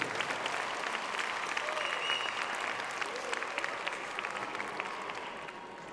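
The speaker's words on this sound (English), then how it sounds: "let's give a big round of applause to all the partners that made all these challenges possible" Steady applause from a conference audience during the opening session of day two of MedCup 2022, thanking event partners; dense clapping holds evenly throughout and eases slightly toward the end.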